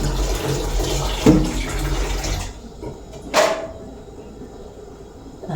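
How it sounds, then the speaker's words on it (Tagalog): Dirty water from boiling santol is poured out of a pan: a loud, rushing splash for about two seconds that stops abruptly, then a metallic clunk and quiet room noise. "Atin pong itatapon na po yung pinagpakuluan."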